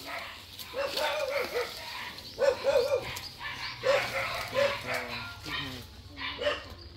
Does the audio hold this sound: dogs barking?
yes